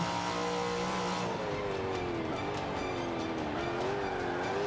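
A racing car engine in the video game Forza 5 drones steadily with shifting pitch as it takes a corner, tires faintly squealing, continuous and fairly close.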